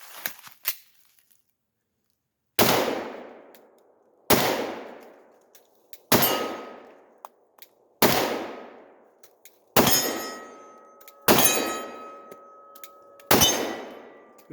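Factory Glock 10mm pistol fired at targets outdoors, seven loud, close shots spaced about two seconds apart, each cracking sharply and then ringing off into a decaying echo, with faint metallic clinks before the first shot.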